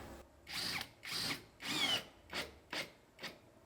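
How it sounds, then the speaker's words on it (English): A power drill drives metal roofing screws through metal roof panels on a 20x30 workshop, giving six short whining bursts with pauses between, at moderate distance. "I'm using the same metal roofing screws to get this side attached"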